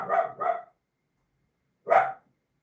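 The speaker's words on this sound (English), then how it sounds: "She doesn't stop barking." A dog barks three times: two quick barks close together, a pause, then one more bark, close and clear against silence.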